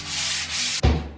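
A soft pad backed with grit gauze sands a board, giving a close, steady hiss of short back-and-forth strokes that ends in a brief, louder scuff.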